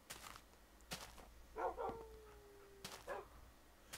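Dogs in a Minecraft adventure map bark in a few short, separate bursts with a whimpering yip in between, fairly quiet against a low game backdrop.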